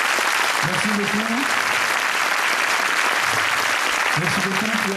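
A concert audience applauds loudly and continuously, with a voice speaking over the dense clapping.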